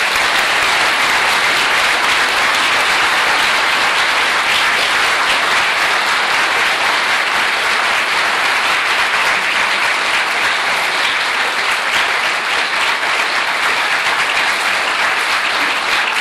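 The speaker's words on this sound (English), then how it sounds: "So please join me with a big round of applause." Audience at a climate report seminar giving a big round of applause, a loud, sustained wash of many hands clapping that stays steady and unbroken throughout.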